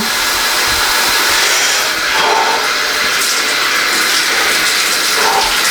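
A cold shower runs with a continuous loud hiss of spraying water, steady and close throughout with no voices.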